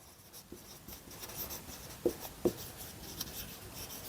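A formula is written out by hand for a chemistry lesson, with soft scratchy pen or chalk strokes and a few distinct taps, faint and close in a quiet room.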